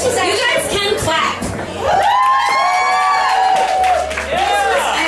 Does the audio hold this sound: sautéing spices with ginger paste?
no